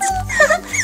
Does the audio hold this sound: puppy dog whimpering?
yes